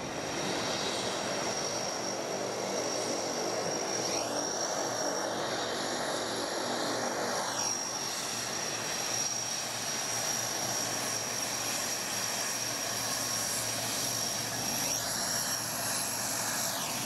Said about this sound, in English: The C-130Hs, which we saw landing